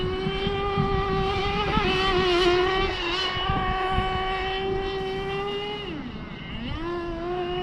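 A Kyosho Inferno GT2 Mercedes AMG GT3 RC car driving, its high electric whine holding steady, then dipping and rising again as it slows and speeds back up, heard at moderate distance with no talk.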